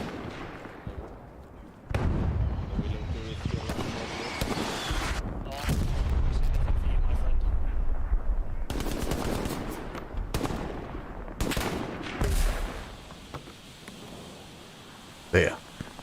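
Bursts of machine gun fire and other gunfire rattle in the Hell Let Loose video game battle, loud and intermittent across several seconds, with a voice speaking over parts of it.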